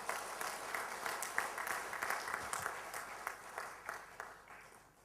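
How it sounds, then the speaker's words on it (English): Audience applause at a Lions Club International forum in Mumbai, a sustained round of clapping that continues steadily and then tapers off toward the end. "Let's give them a round of applause."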